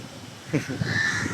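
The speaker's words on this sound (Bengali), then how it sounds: "কাকটা ডাকতেছে, ডাকাডাকি করতেছে কাকটা।" An afternoon crow caws a few times in short, harsh calls at moderate distance over faint outdoor background noise.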